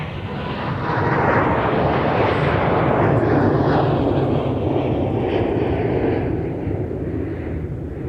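A heavy airliner taking off from Minneapolis–St. Paul Airport, a loud continuous engine roar that swells and then slowly fades as it departs, heard from a distance with no talk over it.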